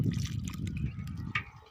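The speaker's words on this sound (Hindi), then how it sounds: "ये देखें, इस तरीके से पानी देना है" Water poured gently onto a potted lemon plant, a steady soft trickle and splash close by with no voices.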